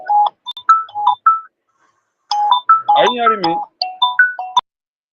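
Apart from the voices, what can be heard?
phone ringing during a call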